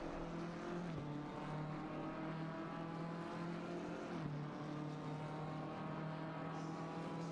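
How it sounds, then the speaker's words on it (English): Race cars lapping Suzuka in a racing video game, a steady droning engine whine that holds a constant pitch with brief shifts, continuous and moderately loud with no talk over it. "Still got a couple of cars at the back coming through"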